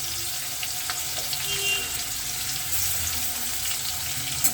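Chopped and grated onions fry in a mix of white oil, mustard oil and a little ghee, giving a soft, continuous watery sizzle at moderate distance with no talking.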